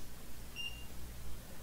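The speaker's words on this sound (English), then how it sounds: "The controller keeps beeping." A Teerok T12s beginner drone's remote controller gives a single short, high electronic beep, faint over a steady low background hum.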